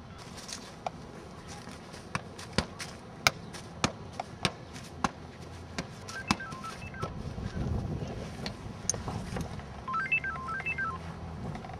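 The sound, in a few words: telephone number being dialed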